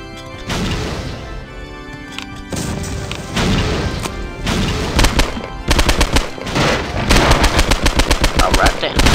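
Dense gunfire and grenade blasts from the shooter game Postal 2, with rapid automatic bursts and heavy crashing impacts that grow louder and more frantic, and a brief voice mixed in.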